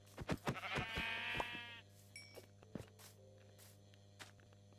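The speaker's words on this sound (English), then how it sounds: "Alright, we're chilling, and there's another sheep." Sheep in the video game Minecraft bleat in a few close, wavering calls near the start, followed by quieter game sounds and a steady low hum.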